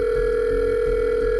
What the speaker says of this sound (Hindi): उसने फिर से अपने फोन से जॉन को फोन मिलाया